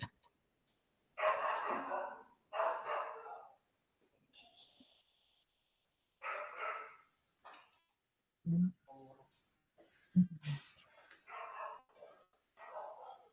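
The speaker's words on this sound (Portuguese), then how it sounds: "Ô, cachorrada barulhenta, deixa eu fechar." A neighbor's pit bull kept in an apartment building barks in loud, repeated bursts, several barks grouped together with short silent gaps between clusters.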